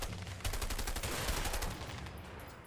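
Shotgun fire in the video game A Way Out: a rapid burst of loud, close shots fired in quick succession, fading slightly at the end.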